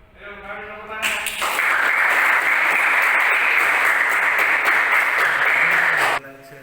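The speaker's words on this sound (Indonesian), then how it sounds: "Ayo, mari tepuk tangan." Steady applause from a class audience fills most of the stretch, rising sharply after a brief moment of speech and continuing loud and even before cutting back to quieter room sound at the end.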